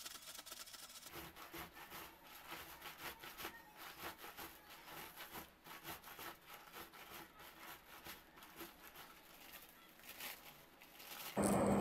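Jackfruit seeds are rubbed together to scrub them clean, producing a continuous gritty scraping and rasping in quick repeated strokes, close and fairly quiet, with no talking.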